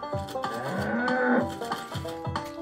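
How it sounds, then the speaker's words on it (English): Cows moo repeatedly in a quick series of loud, close, drawn-out lowing calls, some overlapping, heard alone without any talking. "Hear those cows?"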